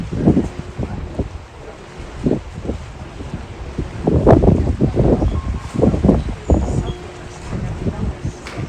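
Wind and water on deck 10 of a ship sailing through Prince Christian Sound in Greenland, gusty wind buffeting the microphone with rumbling bursts over a steady rushing backdrop.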